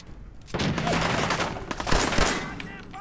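Rapid bursts of gunfire crackle through a Fallout 4 firefight, with overlapping shots and a low boom layered under faint game voices and music.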